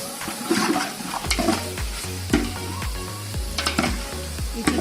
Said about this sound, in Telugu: ఇప్పుడు మనము మ్యాగ్నేట్ పెట్టిన చికెన్ని యాడ్ చేద్దామండి.